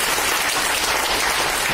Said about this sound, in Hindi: जोरदार ताली बजेंगे